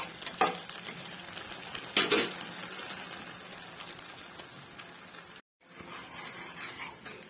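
Chilli paneer thickened with cornflour bubbling on a medium gas flame, a soft steady sizzle broken by a couple of sharp utensil clinks against the pan and a brief silent gap.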